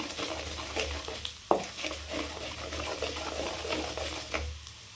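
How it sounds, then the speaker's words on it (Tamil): Urad dal frying in a pan over a low flame, stirred with a steady scraping rhythm under a soft continuous sizzle and a low background hum, with one sharp clink partway through; no talk. "அடுப்பை கம்மியாக வச்சு நல்லா கருகிராமல் கிளறி விடுங்க."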